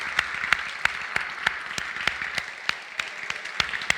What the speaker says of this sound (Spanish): un gran aplauso para Howard Victor.